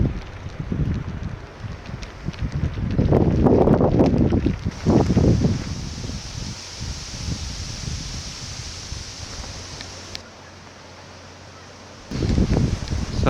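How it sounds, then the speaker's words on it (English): Breeze gusting across open ground in the Scottish Highlands of Assynt on a sunny walking day, a steady broadband rush with stronger buffeting gusts, loud and close against the microphone, with no talk. "Beautiful day, a little bit breezy, lovely sunshine, and a perfect temperature for walking."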